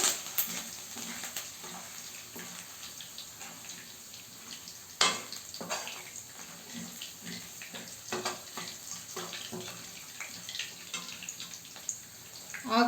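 Garlic, crushed garlic and curry leaves fry in hot oil in a pan for a tempering, giving a steady close sizzle with scattered crackles and pops.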